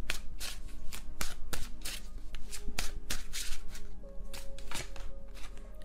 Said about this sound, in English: If I could shuffle, that'd be great.